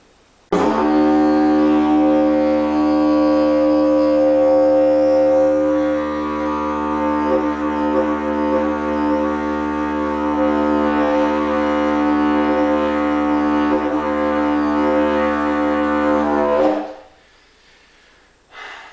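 A deep, steady didgeridoo drone sounds continuously for about sixteen seconds, rich in buzzing overtones, then cuts off, followed by a short breath.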